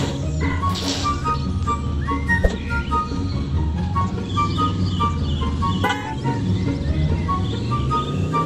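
A car driving in a video game, with a steady engine hum beneath tooting horn-like tones and music, plus a brief crash-like hit, all fairly loud and continuous.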